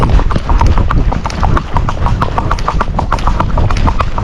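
Hooves of a Rocky Mountain gaited horse clip-clop in a quick, even, continuous rhythm, close and loud over steady outdoor noise.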